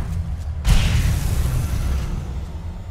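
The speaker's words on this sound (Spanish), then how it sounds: "Justo se puso en la explosión de la granada y valió." A grenade explodes in the video game Alan Wake, a sudden deep boom followed by a low rumbling tail that fades slowly, with no talking.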